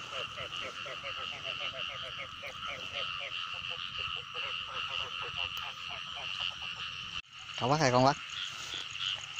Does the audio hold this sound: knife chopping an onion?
no